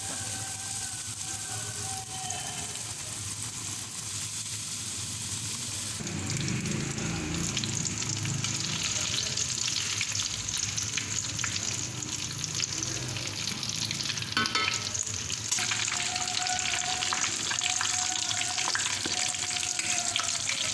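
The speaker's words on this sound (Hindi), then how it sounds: "अब मैं इसको डीप फ्राई कर लूँगी।" Chicken pieces deep-frying in hot oil for a KFC-style fried chicken, giving a dense, continuous bubbling sizzle that swells louder partway through, close and steady without talk.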